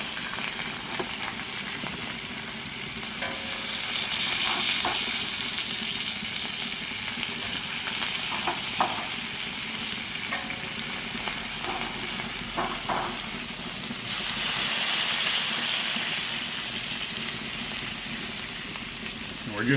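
Country style ribs sizzle hard on a flat top griddle, a dense steady crackle close by with scattered pops and brief scraping touches, and no talking over it.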